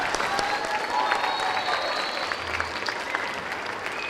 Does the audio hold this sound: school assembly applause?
yes